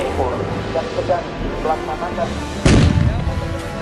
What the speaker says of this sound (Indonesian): dari posisi terlindung menembak dan menghancurkan sasaran ini, yaitu pos pengamanan setempat musuh